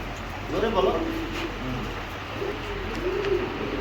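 Racer pigeons coo softly in low rolling phrases, close by, under a speaking voice and a steady background hum.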